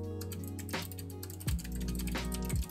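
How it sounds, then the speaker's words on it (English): Computer keyboard typing picked up faintly in the background, a few scattered key clicks and taps over low background hum. "I can hear him killing the keyboards right now."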